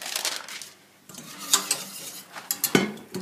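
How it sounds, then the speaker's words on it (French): A whisk stirs flour into whitened eggs in a bowl for pastry cream, giving quick metallic clinks and scrapes in short irregular bursts, close and fairly quiet. "on mélange délicatement au départ pour incorporer la farine dans la préparation"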